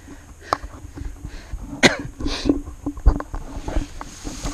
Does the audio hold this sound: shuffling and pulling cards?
no